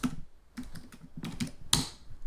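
Quick, uneven bursts of keystrokes on a computer keyboard, clicky and close, with short pauses between clusters of taps and a sharper strike near the end, and no voices.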